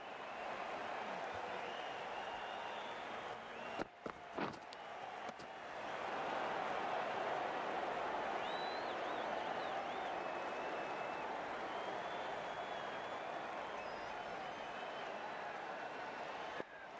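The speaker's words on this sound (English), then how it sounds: "It's going to be hard for the bowler to focus with the crowd this excited." An excited cricket crowd at a NACO Spring 2020 match keeps up a sustained roar of applause and cheering, steady and fairly distant, with a few brief louder thumps early on.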